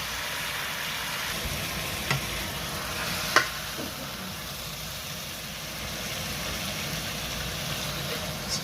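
A kitchen cooker hood extractor fan running steadily while black pepper pork is stir-fried, a constant broad whooshing drone with a couple of faint clicks from the stove area.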